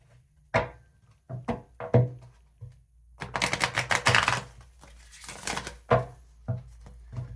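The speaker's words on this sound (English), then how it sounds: "Trying to perfect my Vegas shuffle here." Playing cards are shuffled in quick riffling bursts, with sharp taps and a longer rapid flutter in the middle, close and fairly quiet.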